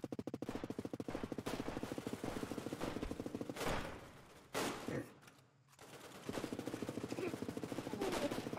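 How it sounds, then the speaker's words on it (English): Rapid bursts of automatic gunfire in the video game Redmatch 2 rattle in long strings, with a few sharp louder shots and brief pauses between volleys. "I hear some gunfire over here."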